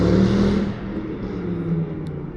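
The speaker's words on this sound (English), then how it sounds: "You can hear a loud engine, which is near me" A loud car engine rumbles nearby on a street in East Ham, London, revving briefly then settling into a steady low drone.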